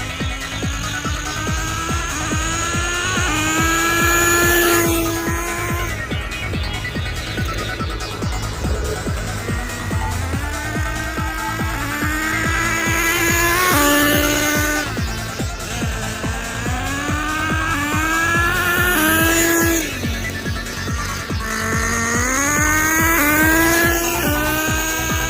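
Kyosho USA-1 nitro RC truck with a 3-speed transmission, its small engine buzzing at half throttle in repeated rising whines as it shifts through gears, steady and fairly loud throughout, no talking.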